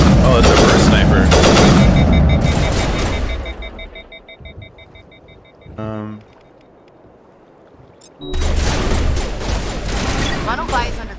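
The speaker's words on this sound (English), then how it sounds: "Are they shooting at towers? Oh, it's a burst sniper." Repeated bursts of sniper rifle fire in the Mass Effect video game ring out loudly in clustered volleys, with a brief lull and a sharp isolated crack midway, set against game noise and combat sounds.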